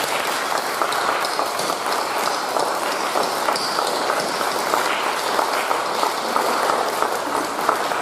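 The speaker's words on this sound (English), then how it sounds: "give each other a round of applause" Students at a school moving-up ceremony give each other a round of applause, a dense, sustained crowd clapping that fills the hall loudly and evenly from start to finish, with no speech over it.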